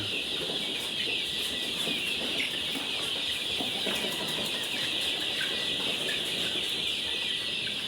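A flock of chickens, including a rooster, clucks and rustles steadily at close range, soft scattered calls over a constant high insect-like buzz with no talk.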